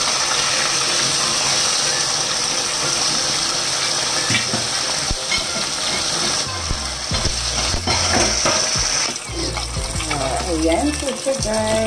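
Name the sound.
fish frying and being flipped in a pan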